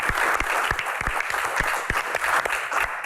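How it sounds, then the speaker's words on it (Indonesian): Studio audience at an Indonesian comedy Q&A show breaks into brisk, lively applause, dense and continuous with a few sharper individual claps cutting through. "Akamsi, tepuk tangan dong Akamsi"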